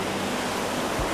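Ocean waves at Kamala Beach in Phuket, a surfing spot, give a constant broadband wash of surf, moderately loud and steady, with a slightly heavier surge near the end and no voices.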